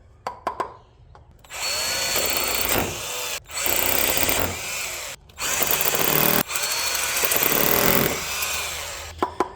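A power drill with a 6.5mm bit whines loudly in several long bursts separated by brief pauses, grinding into a brick wall, close and steady.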